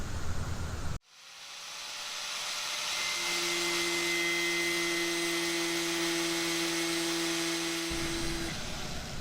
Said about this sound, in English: So I'm going to be using my grinder to just grind off a little bit.